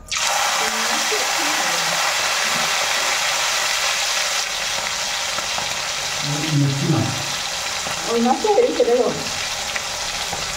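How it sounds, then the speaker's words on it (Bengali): Shrimp frying in hot oil in a home kitchen: a loud, continuous sizzle runs throughout, with louder bursts of stirring and spattering near the end. "চলো এবার চিংড়ি মাছটা ভেজে নিই"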